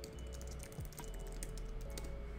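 Quiet typing on a computer keyboard, with scattered soft key clicks over a low steady hum and no one speaking.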